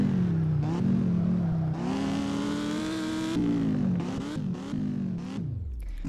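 An Audi car engine in the Roblox game Driving Empire revs up and down, its loud droning tone rising and dropping with gear changes.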